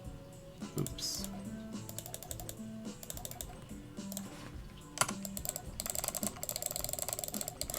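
Rapid jitter clicking of a computer mouse while playing Ub Funkeys Speed Racer Pinball on a Windows 10 PC, dense bursts of fast close clicks mixed with game music and effects.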